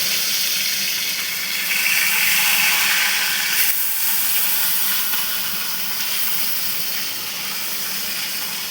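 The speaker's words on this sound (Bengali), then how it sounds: "মাছটা আমার ঢাকা দিয়ে ভাজা করছি, খুব ফুটছে" Fish frying with spices in a covered pan gives off a steady, loud hiss and sizzle, close and continuous from start to finish, with no talk.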